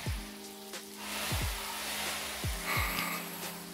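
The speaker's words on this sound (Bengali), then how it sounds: "মাছটা ভাজা হয়ে গেছে, এবার আমি মাছটাকে তুলে নেব।" Fish sizzles in hot oil in a wok, a steady close crackle with a faint tonal hum running under it. No one speaks.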